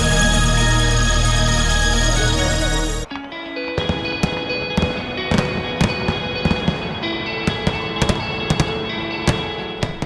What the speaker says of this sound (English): As people across New England were enjoying their 4th of July fireworks